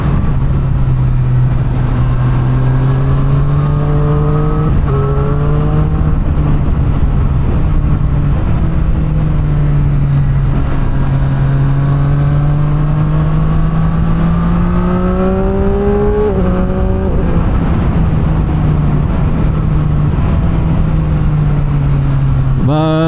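A Triumph Street Triple 765 R roadster's engine revs and pulls through the gears while riding, its pitch rising and dropping with each shift and wind rush underneath, loud and continuous throughout.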